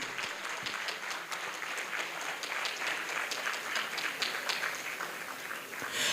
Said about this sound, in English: let's give Mrs. V.R. Nathan a huge round of applause